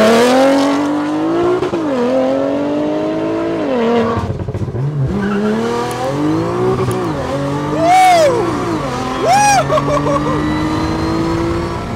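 A highly modified Stage 3 VW MK8 GTI accelerating hard, its engine revving up and down in loud sweeping climbs, with turbo whooshes and sharp whistling flutter bursts near the end, heard close from inside the car.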